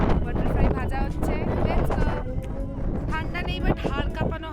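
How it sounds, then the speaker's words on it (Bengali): Strong cold wind at Drass near Kargil buffets the microphone, a low rumbling roar running steadily under people talking throughout. "ঠান্ডা নেই বাট হাড় কাঁপানো হাওয়া।"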